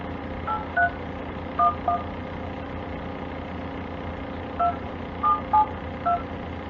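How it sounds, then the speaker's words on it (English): Several short electronic dialing tones beep in irregular clusters over a steady low engine-like hum, with no talking. "أنا هحاول أتصل بالرقم تاني"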